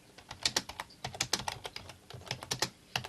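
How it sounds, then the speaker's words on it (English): Fast keyboard typing by one hand, a quick uneven run of close, clicky keystrokes that goes on throughout. "Sorry, I'm typing something. Trying to type it fast"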